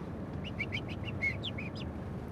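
A man imitates a blackbird with a string of short, whistled chirps in an uneven rhythm, fairly faint over a steady background hum.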